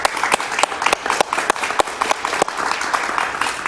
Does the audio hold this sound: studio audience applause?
yes